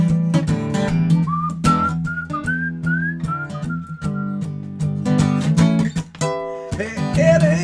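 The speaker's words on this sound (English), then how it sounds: "whistle for me, whistle for me." A person whistles a sliding melody over a live band performance, clear and prominent above the steady instrumental backing.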